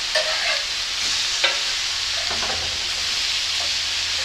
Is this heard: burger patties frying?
yes